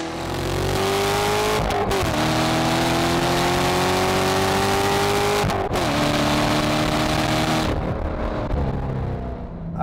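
A 2014 Chevrolet Corvette Stingray accelerates hard around a race track, its engine loud and close, climbing through revs with two quick gear-change dips and a lift off the throttle near the end, no one talking.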